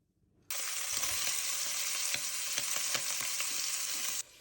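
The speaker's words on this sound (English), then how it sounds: "I've got the guanciale sizzling. That's all rendering down." Guanciale sizzles steadily and loudly in a pot, a continuous crackling fry that starts suddenly and stops abruptly a few seconds later.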